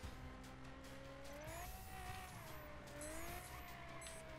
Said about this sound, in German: Nein, jetzt bin ich noch vor ein Auto reingefahren.